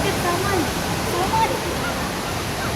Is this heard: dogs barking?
no